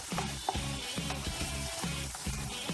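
Sliced cooking onions sautéing in a pan for Bosnian-style mantı filling, a steady close sizzle with faint stirring scrapes and no talk.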